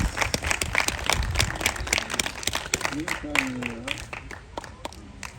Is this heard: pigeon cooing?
no